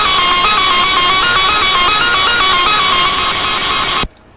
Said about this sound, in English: Get your cowbell mixing and drag it in, and it'll sound like this.